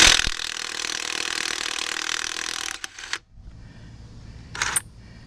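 A Chicago Electric 18-volt 1/2-inch cordless impact wrench running at the roadside: a steady, harsh whirring buzz for nearly three seconds, a couple of short stuttering bursts, then a brief final burst after a pause.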